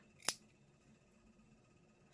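A pair of scissors makes a single crisp snip into the fabric seam allowance of a sewn sun cap, sharp and close in an otherwise quiet room.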